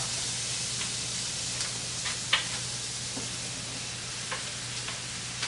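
Mushrooms for a turkey meatloaf sizzle in a pan with a steady, close frying hiss, broken by a few soft clicks and stirring taps.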